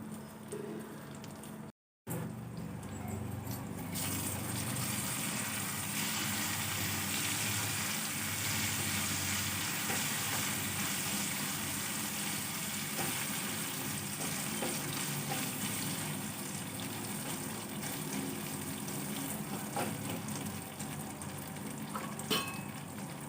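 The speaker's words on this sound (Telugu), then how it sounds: "సిమ్లో ఫ్రై చేసుకోవాలి మూత పెట్టుకొని మగ్గనివ్వాలి" Raw prawns fry on a low flame in a covered pan, giving a steady, close sizzle that runs without a break after a brief dropout near the start, with no talking.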